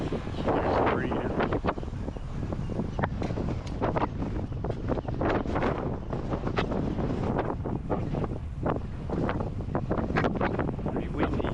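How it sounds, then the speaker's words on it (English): Strong wind buffeting the microphone near a pier entrance on a coastal street, a loud continuous roar with gusty thumps throughout, no clear voices over it. "Pretty windy."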